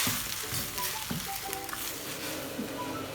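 Fried chicken pieces tumble into a sizzling chilli chicken gravy, a steady close frying hiss with soft clatters of stirring and no voices.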